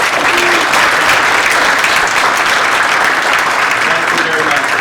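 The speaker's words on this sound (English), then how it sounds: "with a warm round of applause, please welcome our last keynote speaker of PyData NYC 2023, JJ Allaire." Audience applause welcoming the final keynote speaker at the PyData NYC 2023 conference, a dense, steady wash of many hands clapping that stays loud and even for about five seconds.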